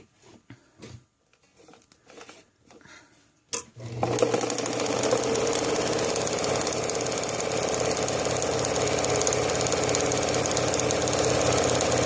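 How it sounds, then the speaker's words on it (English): A vintage Necchi sewing machine starts up and runs steadily, sewing a straight line automatically with a rapid, even mechanical chatter that continues loud and close after a few faint clicks. "you will see that it just is going to sew a straight line, just as it would on your machine"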